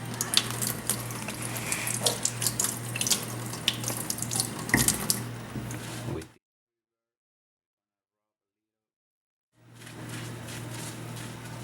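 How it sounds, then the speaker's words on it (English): Tap water runs steadily into a sink as a plastic blender ring is rinsed, a continuous splashing hiss with a brief silent gap before the flow resumes. "So let's get this ring off and let's rinse it."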